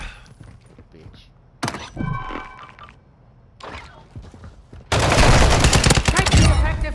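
Video game gunfire arrives in short bursts, then turns into a loud, sustained volley near the end, with someone speaking in between.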